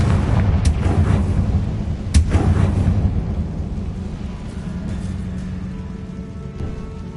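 Confringo blasting spells in Hogwarts Legacy combat, a dense run of booming explosive bursts with sharp impacts near the start and middle over a continuous rumbling battle din, loud and close.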